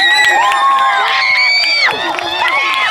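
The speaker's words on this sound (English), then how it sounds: "Let's give another round of applause to our graduates." At an 8th grade graduation ceremony, the audience cheers for the graduates with loud, continuous crowd noise and piercing high whoops and shouts that carry throughout.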